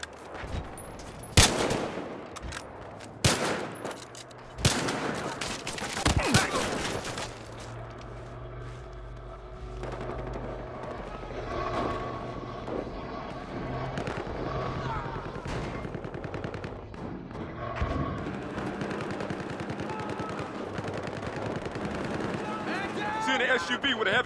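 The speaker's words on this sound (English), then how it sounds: "We got an SUV with a gun on top." Gunfire in the video game Battlefield Hardline, with a heavy gun mounted on an SUV: loud bursts of rapid automatic shots early on, followed by sparser distant shots over engine rumble, while people talk throughout.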